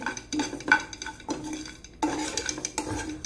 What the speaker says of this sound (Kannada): ಗ್ಯಾಸನ್ನು ಆಫ್ ಮಾಡಿ ನಾನು ಇದನ್ನು ಫ್ರೈ ಮಾಡ್ತೇನೆ